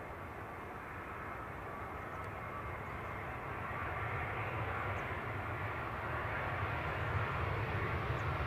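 A Turkish Airlines airliner at Edinburgh airport gives a steady, broad engine roar that swells slightly toward the end, heard alone at moderate distance.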